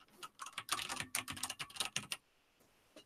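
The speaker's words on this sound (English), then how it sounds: "So I'm going to start typing into the field" Rapid keystrokes on a computer keyboard entering text into a browser login field, close and crisp in a quick burst of clicks that stops abruptly before a short quiet stretch.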